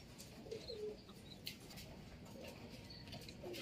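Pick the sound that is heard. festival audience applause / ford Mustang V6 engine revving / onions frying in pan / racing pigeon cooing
racing pigeon cooing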